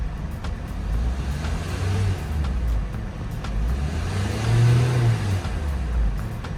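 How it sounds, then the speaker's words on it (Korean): A Tivoli car engine hums steadily and rises in a couple of moderate revs, a low, continuous rumble close by. "일단 창문도 한번 다 열고 엔진 출력부터 해보겠습니다"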